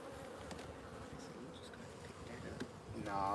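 Agitated honeybees swarm around an open beehive during a summer hive check, giving a steady, close, high-pitched buzzing with individual bees zipping past and a louder buzz swelling at the end.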